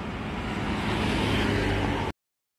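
A bus rushes past on the road with a loud, steady roar that holds for about two seconds and then cuts off abruptly.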